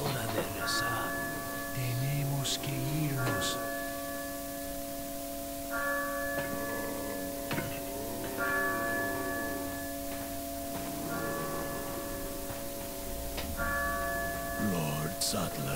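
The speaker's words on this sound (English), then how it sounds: "And the bell tolls," Resident Evil 4 church bell tolling: a series of resonant, sustained strikes at roughly two-second intervals over a constant low hum, with other faint game sounds mixed in.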